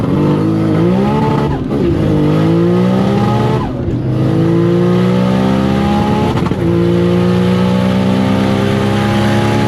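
A Nissan Skyline sedan on a drag strip pass roars loudly and close, its engine climbing in pitch through several rising sweeps, with sharp shift breaks between gears.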